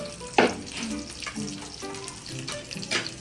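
Hotdogs frying in a home pan, a close, continuous sizzle with sharper crackling bursts and occasional stirring clatter, no talk.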